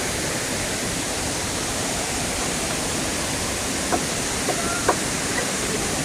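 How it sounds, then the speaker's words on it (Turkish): Steady rushing water from Oylat Waterfall fills the scene with dense, even noise; a few faint clicks appear near the end. "Evet Şelalenin son kısımları yine."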